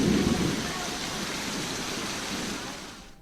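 Unseasonal rain in Pune falls as a steady, dense hiss of heavy rain with a faint low rumble, continuous and fairly loud for the whole stretch before tapering off slightly at the end.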